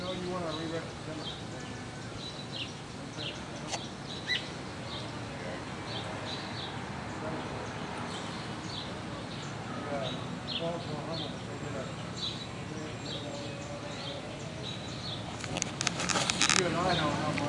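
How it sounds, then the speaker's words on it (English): Baby robins and other birds chirp in a backyard, with short high peeps repeating through a soft, noisy outdoor background; a voice talks faintly, and a burst of rapid chirping swells near the end. "Just birds."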